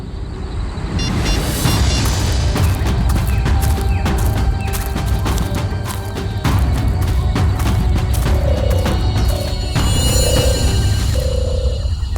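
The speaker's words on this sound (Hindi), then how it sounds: "ये पटाखों की आवाज नहीं, कोई गोली बरसा रहा है।" Rapid bursts of gunfire crackle over a loud, rumbling background in the TV series CID, the shots coming in dense volleys for several seconds without pause.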